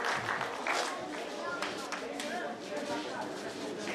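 A crowd at an outdoor folk festival gives dense, continuous applause to folk performers Meleaguri Letene, Olpița Tătirca and Nicu Chiriță. The clapping is fairly faint and distant, with a voice speaking over it.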